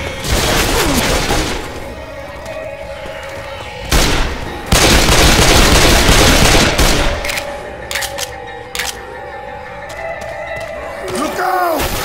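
Bursts of gunfire rattle during a zombie shootout in Left 4 Dead 2, in loud clusters separated by quieter stretches where survivors talk.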